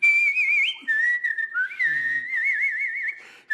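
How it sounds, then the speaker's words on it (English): A single person whistles a melodic tune, clear and close, with sliding pitches, warbling vibrato and brief pauses between phrases, and no talking. "If I whistle a song, it has a way of just breaking barriers."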